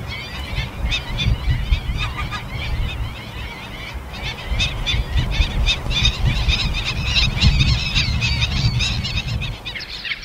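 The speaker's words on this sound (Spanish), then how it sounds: "En la marisma, también las aves son protagonistas del paisaje sonoro" Birds in a salt marsh of the Bahía de Cádiz natural park keep up a dense chorus of honking, goose-like calls, overlapping continuously at close to moderate range over a rumbling background.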